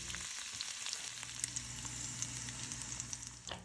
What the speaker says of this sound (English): And now I'm going to add in my onions and start frying them up.